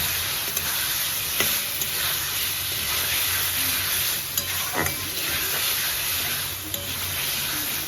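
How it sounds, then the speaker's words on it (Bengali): Green peas stirred and fried in spiced masala, a loud continuous sizzle and hiss with repeated spatula scrapes and knocks against the pan, close and unbroken, no voices. "এবার আমি দিয়ে দেবো গ্রিন মটর আর একটু ভালো করে কষিয়ে নেবো"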